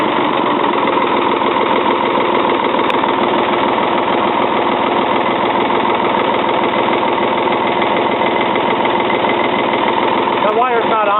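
1977 Ford 555 backhoe diesel engine idling low and steady while warming up after sitting more than two years, a continuous close knocking chug with voices heard over it.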